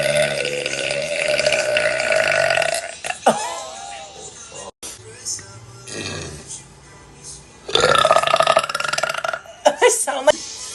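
A girl burps loudly several times in a live stream, with long drawn-out belches breaking up bursts of her own chatter and laughter, all close to the mic.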